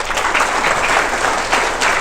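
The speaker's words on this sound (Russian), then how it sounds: "Еще раз похлопаем" Audience applause at a training seminar, a steady dense wash of clapping from a crowd, loud and close throughout the short burst.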